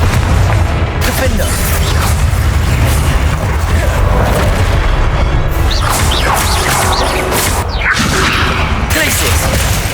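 Repeated explosive spell blasts from Hogwarts Legacy combat on hard mode, loud booming bursts and crashes layered in dense, continuous battle noise with a few sharper pops throughout.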